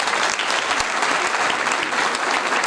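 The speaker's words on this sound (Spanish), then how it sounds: "Y los uruguayenses decimos gracias y lo hacemos con un aplauso." Applause from an audience at the official presentation of a provincial theatre festival, a dense, steady wash of clapping at close range that fills the whole stretch without pause.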